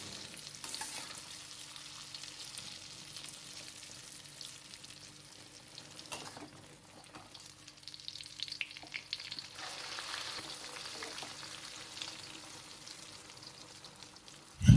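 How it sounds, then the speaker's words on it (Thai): A Thai omelette with red curry paste, cha-om and minced pork fries in hot oil, a steady soft sizzle and crackle with occasional stirring scrapes, continuous and fairly faint, with no voices. "ทอดให้ไข่เหลืองกรอบฟูตามที่ต้องการได้เลยครับ"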